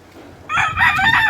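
A rooster crows once, loud and close, its harsh call starting about halfway through after a quiet lead-in, on a farm.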